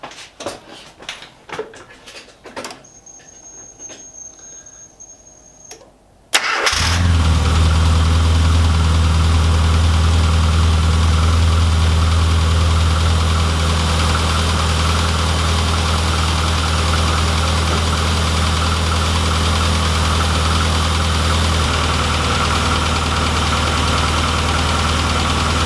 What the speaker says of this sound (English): Let's fire this up and let this coolant drain.